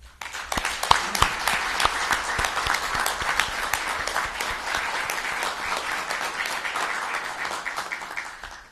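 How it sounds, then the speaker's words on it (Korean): Staff gathered at the Blue House, the South Korean presidential office, applaud one another in a sustained, even burst of many hands clapping, starting abruptly and fading out at the end, with no talking over it. "서로서로에게 고생했다, 더 잘하자 라는 의미로 격려의 박수를 쳐줍시다."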